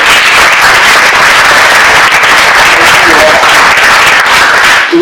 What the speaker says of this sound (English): Let's first get some applause for our panel.